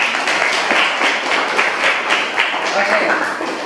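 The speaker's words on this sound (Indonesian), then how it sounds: "Untuk presentasinya kita berikan dulu tepuk tangan." A classroom of students claps after a presentation, with a brisk, scattered patter of hands sustained at moderate volume for a few seconds.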